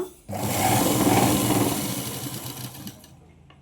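A sewing machine stitches piping onto a fabric basket handle, a close whirring motor run that starts abruptly, holds for a couple of seconds, then slows and stops.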